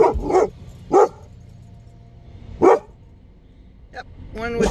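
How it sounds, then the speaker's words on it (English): A dog barks in a few sharp, separate bursts with pauses between them, fairly close and loud, and a voice is heard near the end. "There goes the dog."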